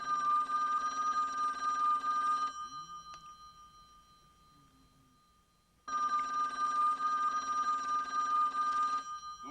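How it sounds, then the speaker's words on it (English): An old telephone bell rings in two long, steady bursts with a quiet pause between them, clear and fairly close indoors, with no voices during the rings. "Louise, it's ringing, honey."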